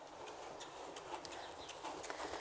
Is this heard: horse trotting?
yes